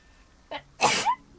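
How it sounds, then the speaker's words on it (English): A single sharp sneeze, close and loud, preceded by a brief quick inhale, then quiet. "A sneeze."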